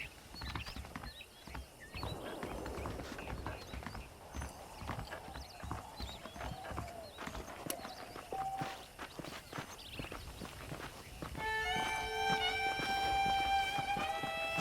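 Horse hooves clip-clop at a steady walking pace on a dirt path in the Red Dead Redemption game world, with a ranch-like setting and musical tones entering toward the end.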